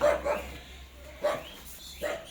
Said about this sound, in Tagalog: Nandyan na naman ang mga tute.